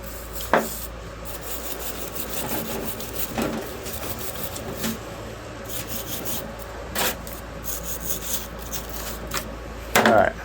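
Rusty truck suspension parts are scrubbed with wax and grease remover, giving steady close rubbing and rasping strokes that run continuously, with a few louder scrapes and knocks.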